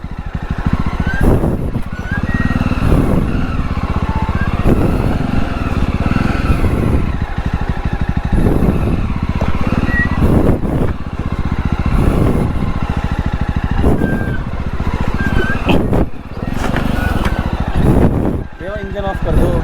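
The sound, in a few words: motorcycle engine running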